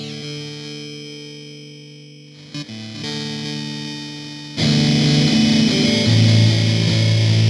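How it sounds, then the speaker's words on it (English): A distorted electric guitar through Ableton Live's Redux bit crusher sustains chords with a gritty, degraded bit-crushed texture, growing louder and harsher halfway through. "We can throw in some redux, which gives us kind of a bit crusher type of sound."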